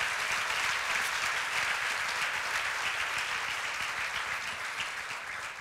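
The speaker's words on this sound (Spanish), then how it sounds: "Dale un aplauso a ese rey," Church congregation applauding together, a dense, loud wash of clapping that holds steady and then slowly fades toward the end.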